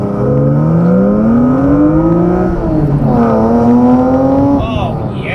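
A BMW M3 E36 Evolution straight-six climbs through the revs in a long rising howl, dips at a gearchange, then pulls up again, heard loud from inside the car with a voice over it.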